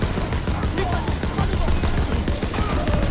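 Machine-gun fire in the video game Call of Duty, dense and continuous rattling bursts at close range, loud and busy throughout, with no voices.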